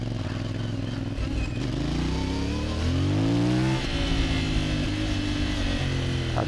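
A CF Moto MT450 off-road motorcycle engine revving loud and close. The engine note climbs steadily, peaks, then drops back to a rough, uneven idle-level growl.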